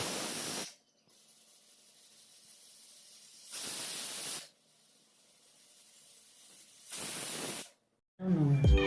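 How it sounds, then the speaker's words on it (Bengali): Pressure cooker with goat meat inside, releasing three loud, close bursts of hissing steam separated by quieter stretches, followed by a short burst of other sound at the end. "এবার প্রেসারটা দেওয়ার পর আমি 4টে সিটি মেরে নেব"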